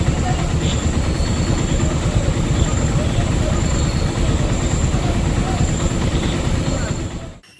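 A heavy truck carrying an airport fire engine rumbles past on a hill road, a loud continuous low roar that holds steady and then drops away at the end, with some voices faintly under it.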